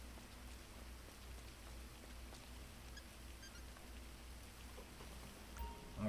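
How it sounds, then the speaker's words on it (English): Steady rain falls in the HighLife RP roleplay game, a faint, even hiss of drops that carries on unbroken, with a small louder bump right at the end. "in this game right now it's raining"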